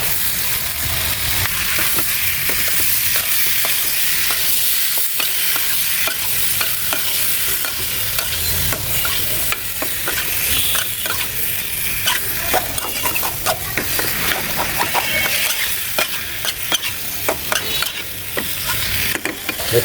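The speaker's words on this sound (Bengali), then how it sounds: "এখন আমি টমেটোটা দিয়ে দেবো।" Chopped tomato hits hot oil with frying ginger, garlic and green chilli, producing a loud, continuous sizzle with busy stirring scrapes throughout, heard up close.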